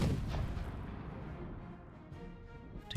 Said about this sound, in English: Oh, I do have cannons on my back. Fire my cannons.